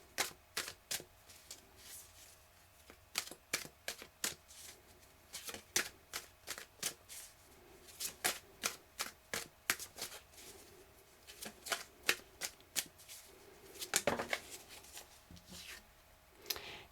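Tarot cards shuffled in quick bursts of crisp riffling snaps, a steady irregular rhythm of close, clear card flicks with brief pauses and one denser flurry near the end.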